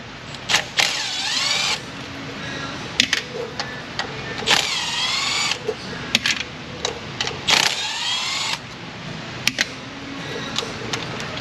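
A power tool pulls bolts from a vehicle transmission in several short whirring bursts of rising and falling pitch, separated by brief pauses and small mechanical clicks.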